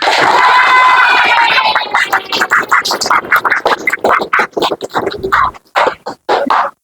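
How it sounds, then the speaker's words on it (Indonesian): In a classroom lesson, students shout and cheer for the presenting groups, then break into bursts of clapping that come in choppy, loud spurts separated by brief gaps. "boleh kita kasih semangat dengan tepuk tangan yang gemuruh"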